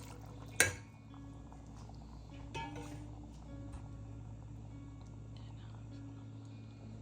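Cleaned fish dropped into a pan of Kerala-style fish curry gives a sharp, wet splash and clatter near the start, then a softer second plop a couple of seconds later over a steady low kitchen hum.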